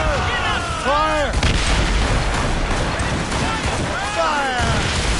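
Ship cannons fire in Assassin's Creed Rogue during a naval battle, heavy booms rumbling under loud shouted commands, with dense battle noise throughout.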